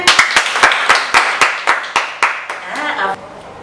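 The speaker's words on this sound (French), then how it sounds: "On peut applaudir." Audience members at a Bible quiz clap in a steady, rhythmic beat, about a dozen sharp, close claps in unison, tapering off as a voice comes in at the end.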